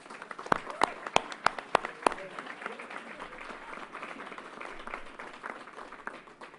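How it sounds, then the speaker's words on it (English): Audience applause at a press conference, a few distinct close claps at first that give way to a softer, scattered patter of clapping from the room. "Let's give her another round of applause"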